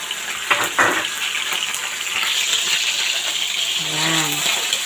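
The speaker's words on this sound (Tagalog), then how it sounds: "Lalagay ko na ngayon ang" Squid dropped into a hot pan for adobo, with a brief splashy clatter followed by a steady, loud sizzle and hiss that carries to the end, close to the microphone.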